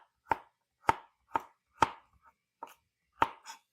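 Small carrots are chopped with a knife on a cutting board in a home kitchen, six or seven crisp, evenly spaced chops, close and clear with no talking.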